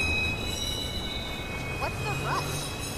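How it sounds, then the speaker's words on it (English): A train in the Watch Dogs video game pulls into a station, its low rumble carrying steady high whining tones and a few squealing wheel chirps toward the end, with no talk. "Southbound train arriving shortly."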